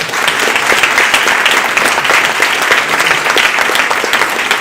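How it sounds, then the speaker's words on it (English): An audience applauds at a tech talk event, a dense and steady wash of clapping from many hands that carries on, loud and close, for several seconds with no talking. "I'd like to have a round of applause for Thomas."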